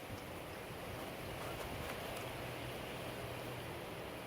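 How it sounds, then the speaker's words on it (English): Steady outdoor wind gusting against the microphone on a very windy day in a garden, a continuous broadband rush with no pauses and no voices. "It is really windy today"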